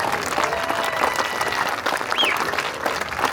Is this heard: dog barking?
no